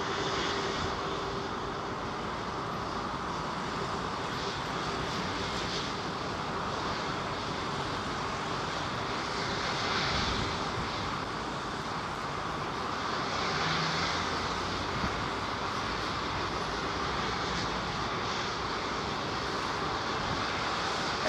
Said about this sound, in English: Eric Souder, love the sound of planes when they take off or land